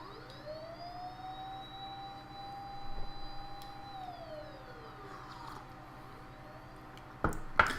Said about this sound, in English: a siren approaches in no time